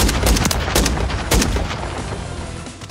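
A shotgun modified to fire fully automatic in Call of Duty: Modern Warfare III, letting off a quick burst of heavy booming blasts, then a second short burst before the echoes fade.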